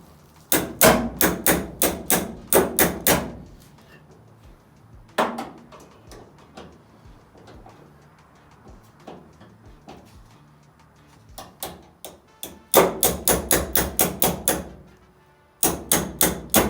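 Sharp, ringing blows from a modified hammer land in quick bursts of several strikes, separated by quieter pauses with softer taps and clinks, during a 1966 Chevy C10 wiper motor and arms service.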